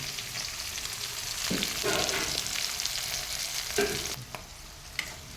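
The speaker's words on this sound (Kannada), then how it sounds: "ಕ್ಯಾಪ್ಸಿಕಮ್ ನಮಗೆ ಫ್ರೈ ಆಗ್ತಿದೆ." Onions and capsicum fry in a pan, a steady sizzle filling the clip with a few sharper scraping stirs of a utensil against the pan, close and fairly loud with no talking.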